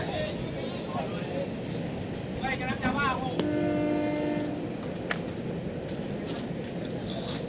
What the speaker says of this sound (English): As the familiar sound of the train goes by at Don Powell Field.